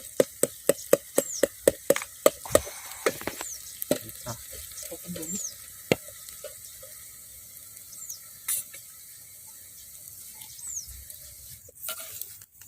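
Onion fries in a pan for a village-style chicken curry masala, with rapid clinking taps of a utensil early on, then sparse scrapes and knocks over a faint low sizzle in a quiet setting.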